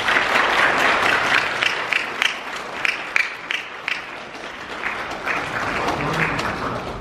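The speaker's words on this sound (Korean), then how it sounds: "여러분 뜨거운 박수 부탁드립니다." Wedding guests applaud as the groom enters the hall, a loud, full burst of clapping that stays steady, with a few sharper individual claps standing out toward the middle before the crowd noise swells again.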